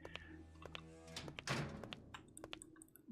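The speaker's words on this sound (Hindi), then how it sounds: "दरवाजा अपने आप बंद हो गया" In a horror video game, a door swings shut on its own: a series of soft thuds and clicks leads into one heavier thunk, followed by scattered light knocks, all fairly quiet.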